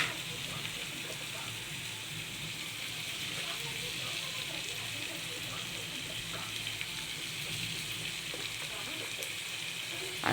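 Chilli powder frying in hot oil with whole cumin, a continuous dense sizzle like light rain, steady and close throughout with no voices.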